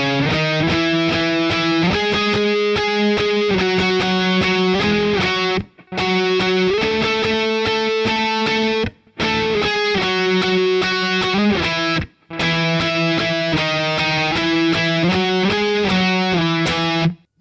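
Distorted electric guitar plays a chorus lead in ringing octaves, a loud, sustained melodic line with brief gaps between phrases and no talking.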